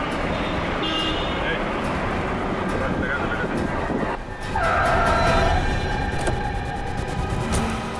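A car brakes hard and its tyres skid to a stop in a street scene, a loud drawn-out screech over steady traffic noise.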